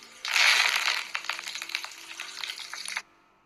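Curry leaves dropped into hot oil with crushed garlic, tempering for an okra peanut fry, set off a loud hissing burst that settles into rapid crackling and spitting for a few seconds before cutting off abruptly.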